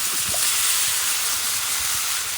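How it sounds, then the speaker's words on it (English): Drained white and golden hominy sizzles in a discada over a hot rocket stove fired with oak yard waste, a steady close hiss that stays even throughout with a few faint low clanks beneath. "I hope you can hear from the sizzle that this rocket stove being fired on oak wood from my yard waste is quite hot"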